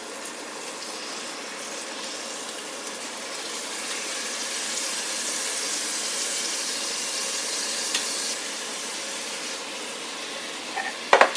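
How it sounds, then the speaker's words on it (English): Pork chops searing in a hot cast iron pan, a steady broadband sizzle holding evenly throughout with a few sharp pops and crackles near the end, no voices over it. "now I'm going to take the pork chops and start cooking the first batch"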